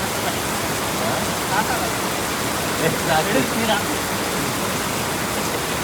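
Steady, dense rain hissing continuously nearby, a broad even wash of sound with faint irregular patters throughout.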